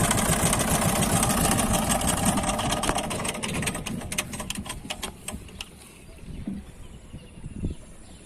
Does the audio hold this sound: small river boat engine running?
yes